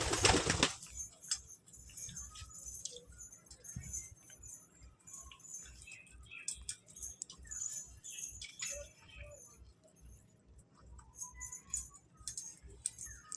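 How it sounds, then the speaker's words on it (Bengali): Pigeons feeding close by: a steady run of soft pecking taps and shuffling, with low cooing and the occasional rustle of wings throughout, and no talking. "দেখো সব পায়রাটাগুলো খাচ্ছি"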